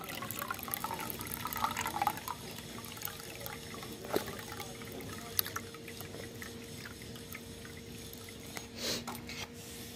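Water being poured off soaked peanut shells and strained to separate it from them, a soft continuous trickle and splash with a few clinks, close by and with no talk.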